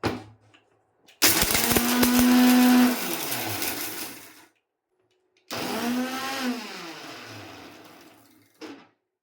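Mixer grinder jar whirring at full speed as turmeric and kumkuma stone are ground to powder, two loud bursts of motor roar with a falling pitch as each run winds down, separated by a short quiet gap.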